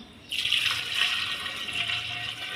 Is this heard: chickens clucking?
no